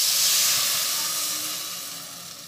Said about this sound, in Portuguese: Agora já vou pôr a água.